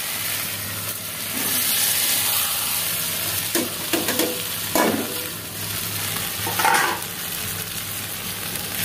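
Soya chunks and potatoes stir-fry in a thick spice masala with oil in a pan, giving a steady bright sizzle broken by several louder scraping stirs, with no voices.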